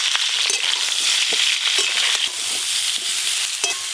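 Potatoes and cauliflower fry together with turmeric and salt for khichuri, a loud, bright sizzle running throughout, punctuated by repeated spatula scrapes and taps against the pan.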